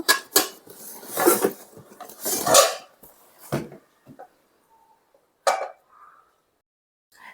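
Two new frying pans, bought at a DMart store in Proddatur, are unpacked and handled, giving scattered clattering knocks and rustles of packaging, louder in the first few seconds and then sparse, with no talking.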